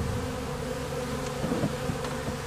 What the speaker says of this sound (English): Let's pull these bees right in here.